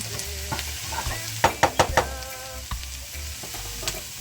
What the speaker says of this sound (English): my onion is almost finished sauteing